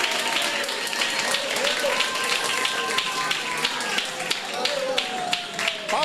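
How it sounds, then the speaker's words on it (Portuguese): A church congregation claps at a sermon, with rapid, steady handclaps all the way through and a preacher's voice and other voices heard over them. "Palmas para Cristo."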